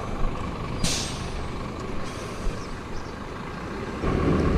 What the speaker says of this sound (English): Sorry about the noise of the truck